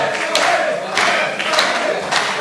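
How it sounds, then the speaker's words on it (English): Sold-out independent wrestling crowd cheering during a match between The Irish Warrior and Ronnie Ribs, a roaring mass of voices rising in repeated surges, with a commentator talking over it. "Crowd's starting to get behind him, Rob."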